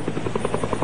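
Military helicopter on a hostage-release flight from Sulu, its rotor beating in a steady rapid rhythm at moderate distance, continuous through the moment.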